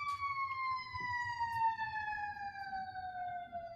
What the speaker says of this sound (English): I don't know if you guys can hear the sirens, but Lawn Fawn is next to the fire station